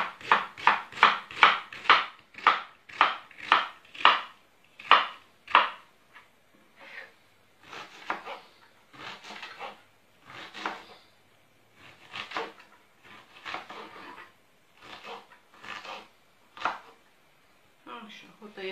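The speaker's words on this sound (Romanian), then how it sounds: "Să tăiem ceapa mărunțel" An onion being finely chopped with a knife on a board, a steady run of quick, crisp taps at first, then slower, more scattered cuts, close and clear.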